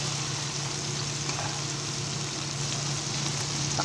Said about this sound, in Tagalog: Mahalo ko na ulit yung ating chicken.